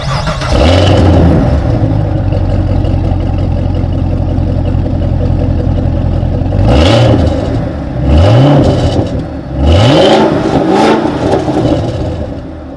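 A 2019 Cadillac CTS-V with a dual-mode quad exhaust idles with a low steady rumble, then gives three sharp revs that climb and fall back, loud and close, with no talk.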